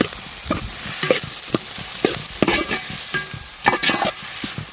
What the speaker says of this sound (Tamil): நல்லா பொன்னிறமாக வதங்குற வரைக்கும் நல்லா வதக்கலாம்